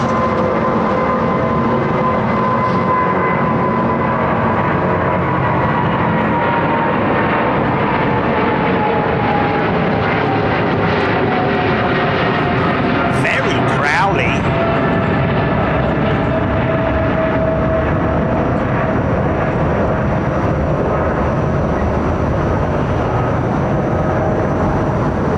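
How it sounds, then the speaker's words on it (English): A jet climbs away overhead on departure from runway 09R at London Heathrow, its broad engine roar filling the air and slowly shifting as it passes, continuous throughout. "Times you hear these engines coming towards you and going past you"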